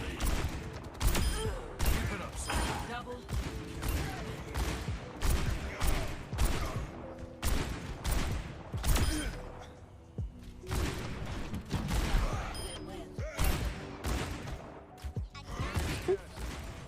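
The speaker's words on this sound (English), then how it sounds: "Landed 3 of my storm arrows on Roadhog" Hanzo's storm arrows from Overwatch fire in a rapid volley of sharp, crackling impacts amid dense game action with repeated bursts and clashes, loud and continuous throughout.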